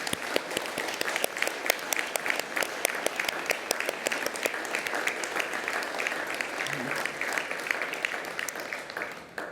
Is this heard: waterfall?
no